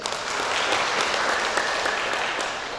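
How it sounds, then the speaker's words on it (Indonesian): A seminar audience in Indonesia breaks into applause, a steady wash of clapping held at moderate loudness for a few seconds with scattered sharper claps. "Kita tepuk tangan dulu untuk Indonesia."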